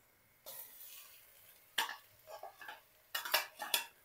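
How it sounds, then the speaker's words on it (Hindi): Garlic and ginger cooking with onions in a pan for Sindhi biryani, heard as a few separate bursts of stirring and utensil scraping with light sizzle between them, close by and fairly loud, with no talking. "लहसुन और अदरक को भी प्याज का कलर मजीद गोल्डन ब्राउन होने तक साथ ही पका लेंगे।"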